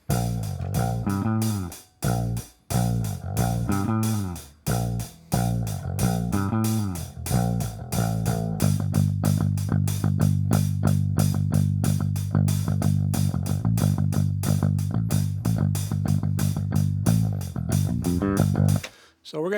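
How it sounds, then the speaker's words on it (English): A steady eighth-note hi-hat guide part drives a tonal backing of bass and rhythm guitar, the ticking pulse running continuously for about twenty seconds with a few brief gaps early on and no talking. "the first step is to set up a hi-hat and a mic."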